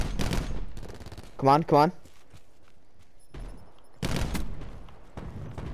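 Sniper rifle fire in Call of Duty Black Ops 4 gun game: several sharp, loud game gunshot bursts spaced a second or so apart, with someone speaking briefly between them.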